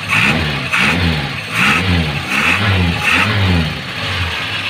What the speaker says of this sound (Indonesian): Langsung aja kita cek mesinnya nih. Kita nyalain bos yuk.